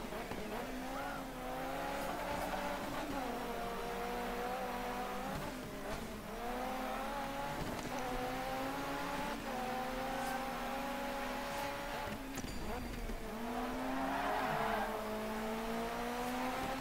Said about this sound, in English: we have an engine to listen to here